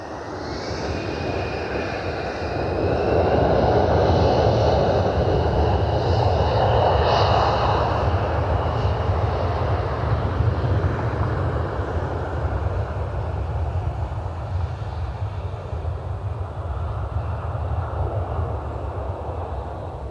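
A United airliner lands at Cleveland Hopkins airport, its jet engines a loud, steady roar that swells over the first half and then holds at a slightly lower level until the end, with no voices.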